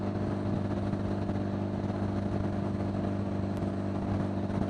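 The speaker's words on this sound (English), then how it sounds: "This damn bike's pretty loud." A loud old Honda Gold Wing motorcycle engine and exhaust while riding, a steady low rumbling drone with wind noise, close and continuous throughout with no talking.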